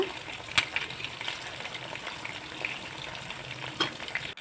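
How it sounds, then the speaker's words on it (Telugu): Chicken 65 pieces fry in hot oil in a pan, a steady crackling sizzle with occasional sharp clacks as a spatula turns them, close and moderately loud. "మసాలా వెళ్ళకుండా ముక్క బాగా వేగుతుంది ఇవన్నీ ఇలా నెమ్మదిగా వేయించుకుంటూ తిప్పుకుంటూ ఉండాలన్నమాట"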